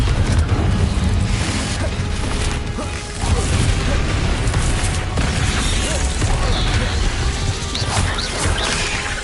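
Confringo fire-spell blasts in Hogwarts Legacy burst in a dense, continuous barrage of crashing explosions and mechanical clatter, loud and close, with a brief dip midway before the booming resumes.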